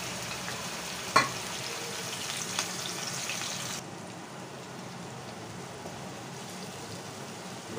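Ground onions hit hot oil in a wok and crackle in a steady, faint sizzle, with a sharp clink near the start and the hiss softening partway through.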